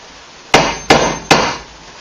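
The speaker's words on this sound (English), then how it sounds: "pound a screw pin into my stud" Three loud, sharp hammer blows drive a screw pin into a wall stud during a bathroom remodel, evenly spaced about 0.4 seconds apart, each a ringing impact that decays quickly, with no talk.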